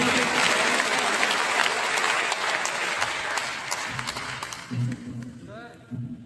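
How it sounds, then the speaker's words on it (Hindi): Crowd at a community association convention applauding, a dense roar of clapping that gradually thins out, with a voice speaking over a loudspeaker as it fades. "आप सबकी जोरदार तालियों की बरसात चाहिए।"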